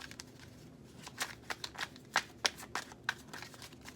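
Tarot cards being shuffled for a clarifying card, soft papery riffles and taps in an uneven series of quiet, close strokes with no talking.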